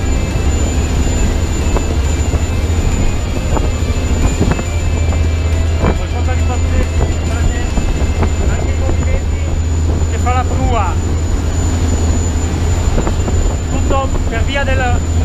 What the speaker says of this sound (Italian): incredibile potenza che stanno sviluppando i motori in questo momento